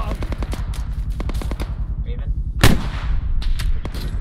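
Rapid bursts of automatic gunfire and booming artillery from the ARMA 3 video game, a close, loud rattle of shots followed by a heavy blast, with a voice heard briefly among the firing.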